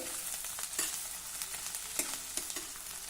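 Steady frying sizzle of onion and chili in a pan, close and constant, with a few soft clinks of a spatula stirring; no voices.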